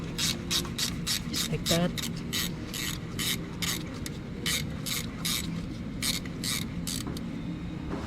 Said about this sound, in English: it's better to use gear wrench like this so you can lose the tension quickly